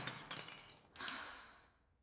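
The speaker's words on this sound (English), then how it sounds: "I broke my glass." Glass shatters in two quick crashes of bright, tinkling fragments, then the sound fades out quietly.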